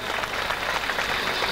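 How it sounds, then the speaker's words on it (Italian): An audience applauds at a 1998 martial arts exhibition, a dense, even wash of clapping sustained throughout at moderate loudness. "Un applauso, a posto le sedie."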